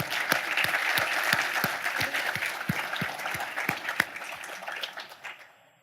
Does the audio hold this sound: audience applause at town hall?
yes